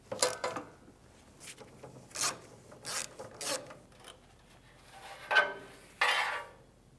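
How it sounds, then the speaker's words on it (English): A 12 mm socket wrench on a swivel and long extension works a bolt loose on a 2003–2008 Toyota Corolla sway bar mount, giving a string of rasping ratchet strokes and metallic scrapes, uneven and close, with no talk. "with a 12 millimeter on a swivel and a long extension, break that bolt loose and remove it all the way"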